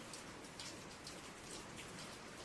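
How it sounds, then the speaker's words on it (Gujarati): Steady rain pours down in a dense, even wash of drops striking surfaces, close and continuous with no pauses or voices. "ત્યાં તો વરસાદ ચાલુ થઈ ગયો"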